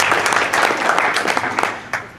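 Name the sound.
audience applause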